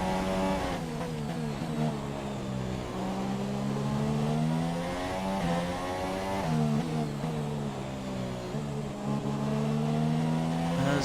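A Ferrari Formula 1 car in the F1 2017 racing game at Hungary, its engine holding a steady high-pitched harmonic whine with gear-shift steps and slight pitch sweeps, loud and continuous throughout.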